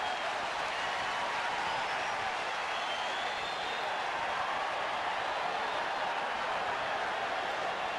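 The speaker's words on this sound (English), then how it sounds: "Big crowd, capacity crowd at Dodger Stadium, and Dave Stewart will slowly come up." A capacity crowd at Dodger Stadium during a baseball game produces a steady, dense roar of distant cheering and applause, holding even and continuous throughout.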